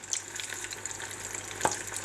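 Arancini ladled into a deep fryer give off a soft, steady sizzle of bubbling oil with a brief sharp crackle near the end, fairly quiet and close, with no talk.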